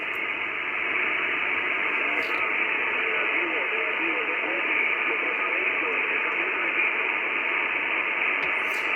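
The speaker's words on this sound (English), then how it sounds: "Lost you in the QSB, old man." An IC-7300 transceiver on the 10 m band, fed by a 5/8-wave vertical antenna, gives a steady band-limited hiss of static with a weak, garbled distant signal buried in the noise.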